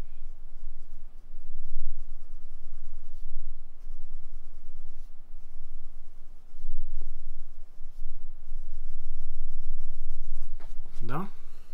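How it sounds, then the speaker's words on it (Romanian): A fountain pen nib scratches across Oxford Optik paper in a steady, close, continuous rub. Near the end, a voice breaks in over the writing. "Se simte foarte bine penița pe această hârtie, excelentă."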